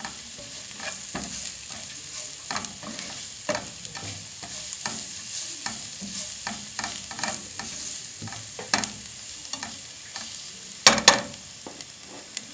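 Onions frying in a pan with salt and chili, stirred in steady repeated scraping strokes over a constant sizzle, close and moderately loud with no talking.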